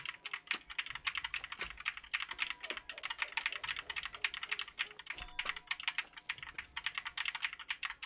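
Rapid, uneven clatter of computer keyboard keys pressed during a Call of Juarez: Gunslinger gaming session, close and fairly quiet, with clicks crowding together in quick bursts and no voices.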